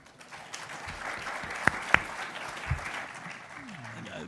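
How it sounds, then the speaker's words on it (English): An audience applauds the Israeli Consul General at a community federation event, a moderate spread of clapping with a couple of sharp nearby claps standing out, and speech mixed in beneath it. "Akiva deserves big applause"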